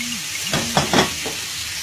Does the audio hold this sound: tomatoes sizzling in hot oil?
yes